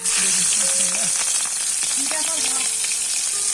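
Marinated shrimp (prawns) frying in hot oil for a tomato shrimp bhuna, a loud dense continuous sizzle with voices talking over it.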